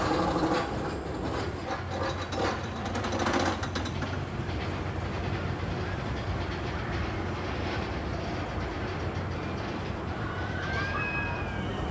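Demon, an aerodynamics looping roller coaster at Six Flags Great America, runs along its track on a rainy night, a steady, dense rumble with faint rattling that holds at an even level throughout, with no voices.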